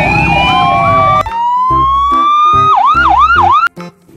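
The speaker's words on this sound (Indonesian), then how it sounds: "Motor polisi buat patroli." A toy police patrol motorcycle siren blares loudly up close, its electronic tones sliding and then warbling in a fast rising-and-falling wail before cutting off abruptly near the end.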